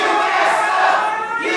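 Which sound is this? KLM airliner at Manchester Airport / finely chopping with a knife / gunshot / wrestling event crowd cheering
wrestling event crowd cheering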